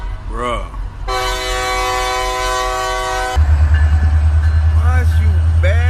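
A passing train sounds a long, loud sustained horn chord for about two seconds, then heavy low rumble as the train rolls by; people talk before and after the blast.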